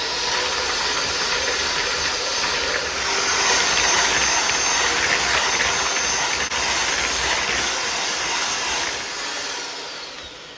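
An electric kitchen mixer creams ingredients for an Easter side dish, a loud continuous whirring hiss that runs steadily for the whole stretch with no talk, easing slightly at the end.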